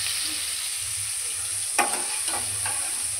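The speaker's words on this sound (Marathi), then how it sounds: "थोडंसं तेल टाकून असं जरा हे करणार आहे तांब्याने, आणि ठेचा बनवणार आहे" Chillies being crushed in oil with a small metal pot to make thecha, a steady low frying hiss with a few sharp knocks and scrapes near the end.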